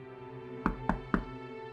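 Three firm knocks on a door, evenly spaced and close, over a low steady background hum in a Pakistani drama scene.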